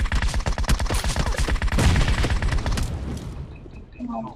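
Rapid bursts of automatic gunfire and a heavy blast from a grenade in a PUBG Mobile squad match, loud and dense, with shots rattling in quick rhythm before fading to quieter game sounds at the end.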